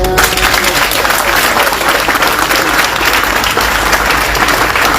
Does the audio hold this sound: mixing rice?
no